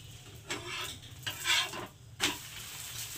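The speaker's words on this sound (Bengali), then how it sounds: "এবার এই পিঠটাকে আমি বাটার লাগিয়ে দেব" Butter being spread with a spoon over a garlic paratha in a hot pan: soft scraping strokes and light clinks of metal on the pan in short bursts, with a faint sizzle underneath.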